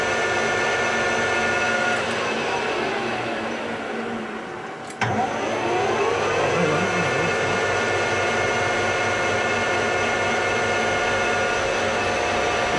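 A metal lathe spins steadily at about 1,000 RPM in a workshop during a Toyota FJ75 Troop Carrier engine swap, giving a continuous machine whir with a brief dip and sharp click midway before the hum resumes.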